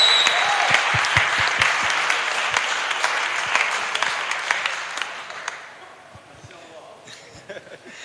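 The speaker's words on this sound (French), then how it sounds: "je vous propose une dernière fois d'applaudir et de remercier ceux qui nous font rêver" Audience applauds at a fight championship press conference, sustained loud clapping that thins out after about five seconds into scattered claps and murmurs.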